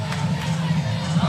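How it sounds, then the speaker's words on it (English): A raucous home crowd roars and cheers at a college volleyball match between Louisville and Clemson, a dense, constant wash of voices throughout the short moment. "It has been a raucous crowd for the most part."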